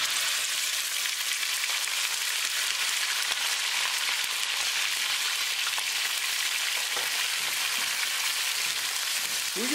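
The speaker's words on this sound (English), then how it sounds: "We're going to cook beef until it's nicely brown." Beef sizzles in olive oil in a kadai, a loud, dense, continuous frying hiss with occasional soft scrapes of stirring near the end.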